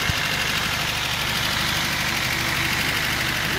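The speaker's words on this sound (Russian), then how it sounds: "на 10-й минуте работы двигателя происходит еще одна прогазовка, которая убирает высокие обороты" VAZ-2105 car engine with iridium spark plugs idling after a remote autostart, a steady, even mechanical hum and rattle heard up close with no voices.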